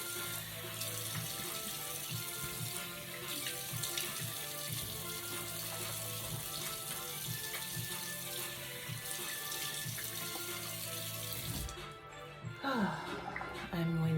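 Tap water runs steadily and close while someone rinses their face at a sink, a continuous splashing wash that cuts off near the end.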